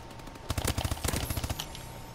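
Short bursts from a KF5 fired in burst mode in Call of Duty Advanced Warfare, a few rapid clusters of sharp, close shots packed into about a second, with no talking.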